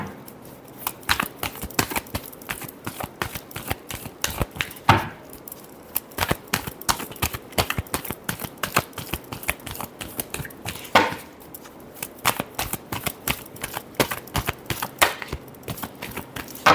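Tarot cards shuffled by hand in a fast, continuous run of crisp flicks and riffles, close and fairly loud, with a few heavier taps and no talking.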